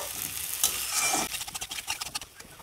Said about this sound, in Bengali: কচুটা মশলার সাথে কষিয়ে নেব।